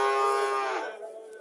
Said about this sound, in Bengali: এখানে একটা সাইওয়াল জাতের সার বাছুর দেখা যাচ্ছে